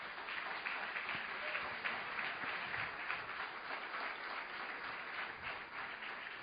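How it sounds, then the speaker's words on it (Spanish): Church congregation applauding during a Sunday service, a sustained even wash of many hands clapping, moderately distant and filling the room for several seconds. "Denle un fuerte aplauso."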